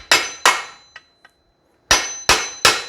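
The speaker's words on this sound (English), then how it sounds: "So I'm gonna get my punch tool again, and we're gonna start tapping this" Metal punch tapping an aluminum supercharger assembly from an Audi 3.0T TVS1320 unit: two sharp taps, two faint ticks, then three more sharp metallic clangs in quick succession, close and alone.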